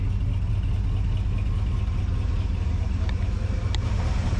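A 1980 Ford Bronco engine idles with a steady low rumble, constant and fairly loud throughout, with a couple of faint clicks near the end.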